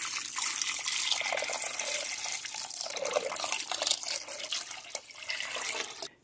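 Warm water pours steadily into a slow cooker with onion soup mix, a continuous splashing gush that runs for several seconds before stopping abruptly.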